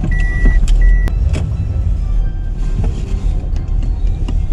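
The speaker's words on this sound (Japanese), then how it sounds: "車が来た。" A car passes close by on a snowy residential street in Aizu during heavy snowfall, its engine rumble rising and fading over a few seconds, with a couple of faint electronic tones on top and no talking.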